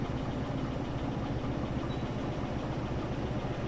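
A locomotive engine in Derail Valley runs at a steady idle, a continuous low rumbling drone that holds evenly throughout with no talking.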